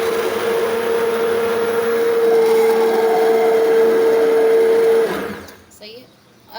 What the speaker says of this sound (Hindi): इसको सिर्फ शुगर और स्ट्रॉबेरीज़ को पहले ब्लेंड कर लें